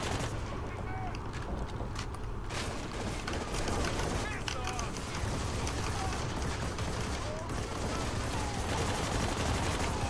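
Steady, dense gunfire with bursts of automatic shots fills a firefight in Army of Two: The 40th Day, loud and continuous, with players talking over it.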